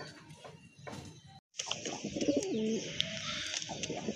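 Madrasi pigeons at a pigeon farm give a soft, low cooing call, heard faintly and close, mixed with light rustling and small handling noises.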